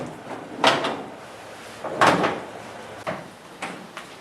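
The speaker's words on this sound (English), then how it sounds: "So we'll open up the doors" Doors of a 1935 Ford Slantback barn-find car are worked open, giving a few distinct metallic clunks and creaks spaced through a short stretch, close by.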